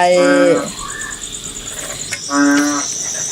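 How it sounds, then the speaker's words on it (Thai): Outdoor night chorus of frogs, loud rhythmic croaking bursts near the start and again later over a continuous high insect-like trill, no speech. "ฟังเสียงกบเสียงเขียดไป"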